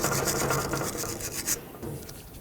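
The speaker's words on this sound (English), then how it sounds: "I'm just going to use my wire brush" Wire brush scraping a Nissan Pathfinder caliper bracket clean during a front brake job, with rapid close scratchy strokes for about a second and a half, then quieter scattered scrapes.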